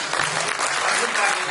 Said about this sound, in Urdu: آپ کو تالیاں ہو جائیں.